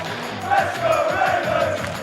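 UK home crowd at a Call of Duty esports event cheering and roaring, a dense swell of voices that rises after a moment and stays loud, with speech faintly mixed in.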